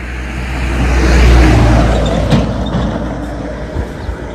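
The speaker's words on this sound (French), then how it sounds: "Il y a une voiture qui passe, je vais la laisser passer." A car passes along a road, its rumbling engine and tire roar swelling to a peak then fading away, close and fairly loud with no talking.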